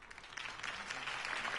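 Crowd applause after a campaign speech in Batman: The Telltale Series, a brief, soft, steady wash of clapping that swells slightly over a second and a half.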